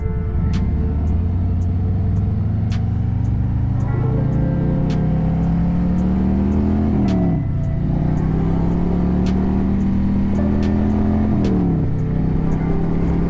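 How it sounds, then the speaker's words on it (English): A motorcycle engine idles and revs in two long rising pulls, each dropping off sharply, steady and fairly loud with no voices. "God, this bike sounds so good."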